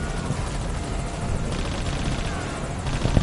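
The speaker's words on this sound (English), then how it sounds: "Oh, is that the chopper, really?" Helicopter heard in a stealth-style video game, a steady, loud rotor drone with heavy low-end throb filling the whole moment, with no talk over it.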